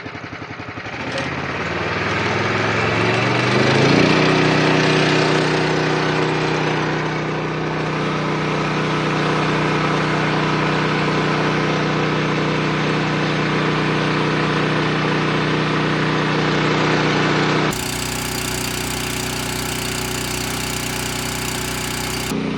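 The pump engine on a Florida Motorsports fire rescue build runs steadily at a set throttle. It gives a loud, even mechanical drone that swells briefly early on, then holds. A harsher hiss or rush joins in near the end.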